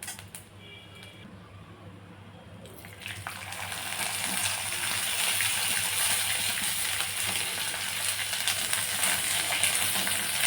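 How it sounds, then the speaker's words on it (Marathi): Green chilies and garlic frying in hot oil for a Kolhapuri green chili thecha, starting quiet and then swelling into a loud, steady sizzle that holds close and continuous, with no talking. "तेलावर आता आपण छान मिरची आणि लसूण भाजून घेऊया"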